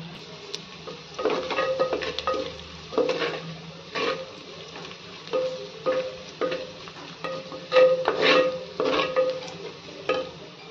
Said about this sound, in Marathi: कांदा छान भाजत आलाय।